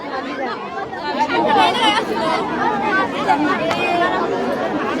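Thousands of people crowd around a small airplane that has landed in a field in Manikganj, their voices merging into a loud, steady babble nearby with no pauses throughout.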